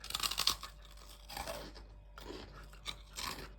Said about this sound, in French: Pour être croustillantes, elles sont croustillantes.